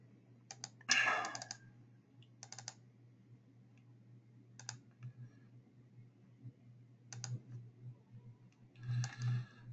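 Computer mouse clicks while working in steel composite bridge design software: a handful of faint, sparse, isolated clicks spread several seconds apart over a low steady hum.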